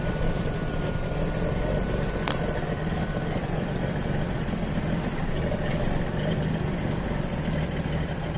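A 1972 Datsun 240Z Series 2 with triple Weber carburetors and a long oval pillow-style rear muffler runs steadily, a loud, dense, even engine rumble that holds without change for the whole stretch.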